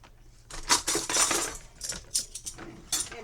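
Metal spoon clinking and scraping against a container while stirring a honey and cayenne pepper mixture, a quick run of bright irregular taps, close and fairly quiet.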